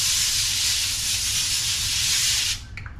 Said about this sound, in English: I'm gonna go ahead and spray that pan.